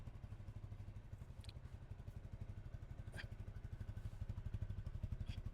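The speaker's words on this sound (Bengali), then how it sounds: "এই আরটিআর এর সাউন্ড তো আপনার খারাপ হয় না," A TVS Apache RTR motorcycle engine idles with a rapid, even thumping pulse, faint and steady throughout, with a few light clicks over it.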